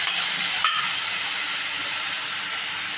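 Kadhi masala sautéing in a hot pan gives a steady, loud hiss and sizzle that holds evenly throughout, with a brief faint stir partway through and no voices.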